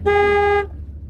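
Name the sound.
car horn honking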